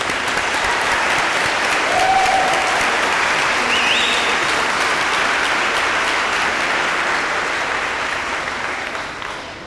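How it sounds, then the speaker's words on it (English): A school crowd at an elementary opening ceremony gives a sustained round of applause for the faculty, dense and loud throughout before tapering off at the end. "One more round of applause for them, please."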